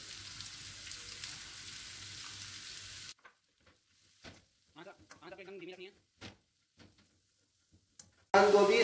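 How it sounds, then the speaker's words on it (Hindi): Chopped cabbage, one cup of it, sautéing in a pan: a steady sizzle and crackle of frying for a few seconds, then quiet with scattered stirring clatter, and the sizzle returns loudly at the end. "1 कप बंद गोभी डालेंगे और उसको अच्छे तरीके से सौते कर लेंगे।"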